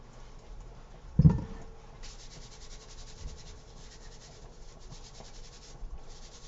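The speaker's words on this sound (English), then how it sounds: "I am cleaning my potatoes. Yeah, so I'm scrubbing these off," Potatoes are scrubbed clean by hand in a kitchen: soft, faint, continuous rubbing and brushing strokes with one brief knock early on and no talking.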